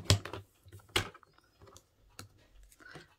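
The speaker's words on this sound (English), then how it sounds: "And I'm going to cut off this time 1 inch." Scissors or a trimmer cutting cardstock for a Christmas card, with two sharp close snips near the start and a few softer clicks and rustles after, with no talking.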